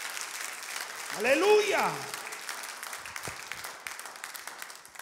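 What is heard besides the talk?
applause from church congregation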